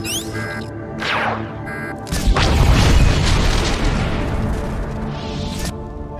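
The death mark blows up in a Star Wars game, first with short mechanical whooshes, then a deep, loud booming blast that rumbles on and fades slowly.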